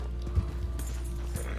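Horse hooves in Red Dead Redemption 2: soft, irregular clopping thuds beneath a steady low engine-like hum, moderately close, with no speech.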